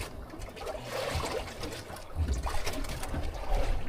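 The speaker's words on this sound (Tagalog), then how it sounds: "Kakasang agos." A strong water current flowing during night fishing, a close continuous gurgling and trickling wash with surging, uneven swells that grow slightly louder toward the end, fairly faint overall.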